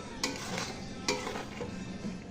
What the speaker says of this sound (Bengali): মিশিয়ে নিয়ে ভালো করে নাড়তে হবে লো ফ্লেমে রেখে